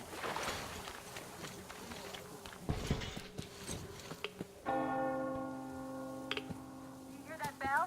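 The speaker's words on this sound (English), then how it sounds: "You hear that bell?" A church bell rings in the video game Metro Exodus, a sustained tonal ring that opens up partway through and hangs over scattered footsteps and ambient game noise.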